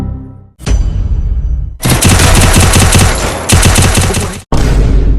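Loud, rapid automatic gunfire from the mobile shooter game Free Fire, long sustained bursts broken by a few short gaps, close and harsh with no voices.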